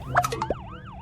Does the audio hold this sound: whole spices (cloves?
no